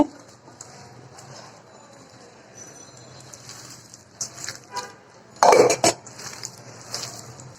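Fish kofta mixture being moved from a small bowl into a larger one, with faint scraping that builds to a sharp burst of dish and utensil clatter near the end, followed by a few softer knocks.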